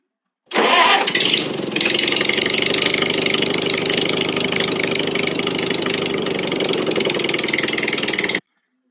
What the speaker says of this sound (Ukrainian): А це їде трактор вулицею села.